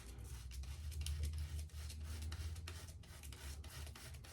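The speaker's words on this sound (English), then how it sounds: "No tugs, no clogs, just smooth shaving niceness." A razor shaves stubble on sensitive skin, a close, soft, continuous scraping rasp with small rhythmic strokes over a low hum, no talking.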